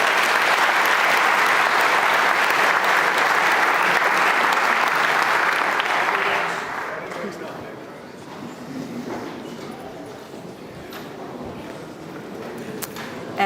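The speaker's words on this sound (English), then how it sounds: "Please join me in a round of applause for our panelists." An audience at a commodities summit panel gives a loud, sustained round of applause that fades away after several seconds, leaving quieter room noise and a voice speaking.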